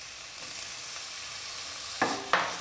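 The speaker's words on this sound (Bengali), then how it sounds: "এগুলো দিয়ে আমি আরো 5 মিনিট পেঁয়াজের সঙ্গে ভেজে নেব।" Grated carrot, capsicum and chopped chilli fry with onions in a pan, a steady sizzle filling the background, with two brief louder scrapes of stirring near the end.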